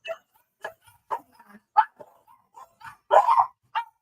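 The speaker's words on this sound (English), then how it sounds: "Dogs." Dogs at home bark at the mailman in a string of sharp, close, loud barks and short yips, irregularly spaced, with no talking between them.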